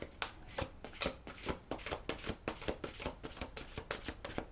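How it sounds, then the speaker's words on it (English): Cards riffle and snap in quick bursts, a brisk run of shuffles close up with no voices. "One more little shuffle here for Scorpios."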